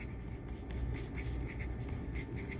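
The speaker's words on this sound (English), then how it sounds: "I'm just going to write the name." Handwriting the name of a chemical compound, a marker or pen scratching in short quick strokes, close and soft against a steady background hiss.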